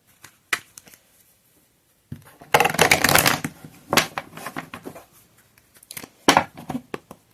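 Oracle cards are shuffled by hand in a quiet room, sounding as close, crisp riffling and flicking bursts with brief taps and pauses between them, and no one speaks.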